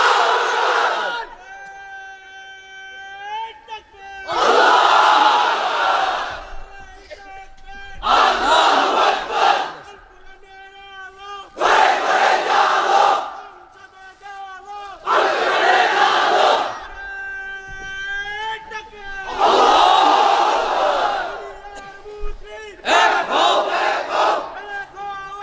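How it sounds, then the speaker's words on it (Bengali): A large crowd of unmarried men chants the Islamic cry Lillahi Takbir in unison, about six loud, booming shouts spaced evenly, with a single leading voice calling between them. "এবার অবিবাহিতরা দাও লিল্লাহি তাকবীর।"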